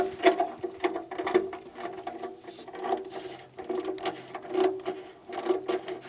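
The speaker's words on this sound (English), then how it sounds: "I'll tighten those bolts down, snug those down for the heat shield." A ratchet tightens heat shield bolts on a Hyundai Santa Fe exhaust with rapid clicking bursts close by, pausing briefly between strokes.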